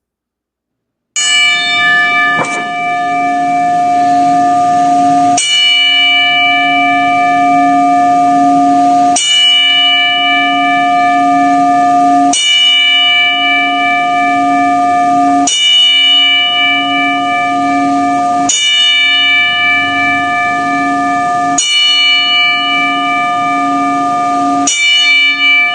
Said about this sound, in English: we're going to take the time to tell the bell 10 times in memory of Sid Vicious